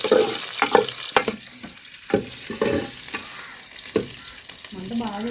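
Green chillies, dried red chillies and onions hit hot oil, crackling loudly with repeated spitting pops and stirring scrapes in an uneven rhythm, close and bright.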